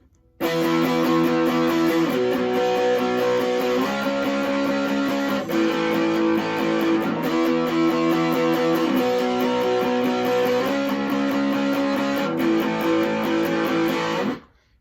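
Loud distorted electric guitar power chords struck in steady repeated down strums, with a few chord changes, playing continuously and then cutting off.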